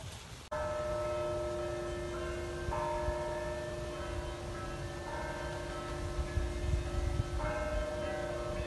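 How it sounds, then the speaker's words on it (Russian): Church bells ring in a steady resonant peal at the Tsaritsyno museum-reserve park in Moscow, heard at a distance over outdoor ambience, with no speech. "Красиво, колокола."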